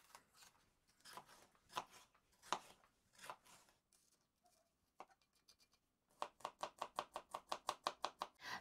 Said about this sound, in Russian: Все овощи мне нужно измельчить.